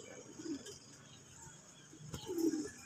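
A young racing pigeon gives soft, low coos, two faint murmuring calls about two seconds apart against a quiet background hiss.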